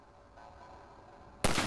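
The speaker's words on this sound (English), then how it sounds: "Let me shoot out the latch." A single sharp rifle shot is fired at a latch in Half-Life 2. The loud crack comes suddenly at the very end after quiet ambience.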